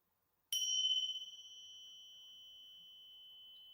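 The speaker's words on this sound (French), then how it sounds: "Je vais donc faire sonner les petites cloches que vous connaissez." A single clear chime from small meditation bells struck once, ringing out with a pure, sustained tone that slowly fades in an otherwise silent space.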